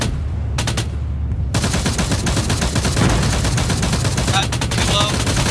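Sustained enemy gunfire in a tank combat video game, dense rapid bursts of shots crackling continuously throughout at steady loudness.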